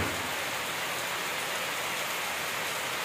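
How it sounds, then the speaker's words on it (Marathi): Steady rain falls outdoors in a dense, even hiss of drops, continuous and moderately loud with no voices or other sounds. "अशा पद्धतीनं पाऊस पडतो आहे."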